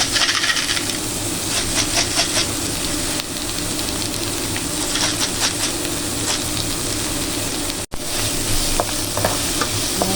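Pork chops with black pepper sizzling in a frying pan, a loud steady hiss of frying with scraping and clinking as they are stirred, heard close without talk.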